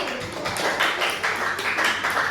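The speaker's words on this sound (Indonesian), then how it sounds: "Beri tepuk tangan untuk Mbak Andi" Classroom audience applause after a student presentation, a dense, continuous patter of many hands clapping at once, close and fairly loud, with no talk over it.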